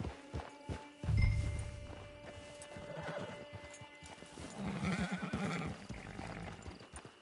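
Hooves clip-clop and a horse neighs and whinnies in a PS4 video game, with steady walking hoofbeats over game ambience and music, rising busier toward the end.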